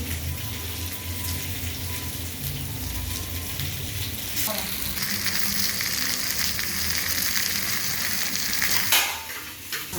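Chicken and noodles fry in a pan with a steady, close sizzle that runs the whole time, with the odd stir and a brief tap of running water near the end.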